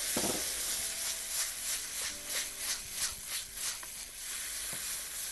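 Half a bowl of pureed tomato sizzles steadily in rapeseed oil, a continuous bright hiss with gentle pulsing swells, close and moderately loud, with no voices.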